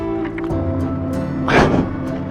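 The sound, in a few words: motorcycle engine somewhere in the distance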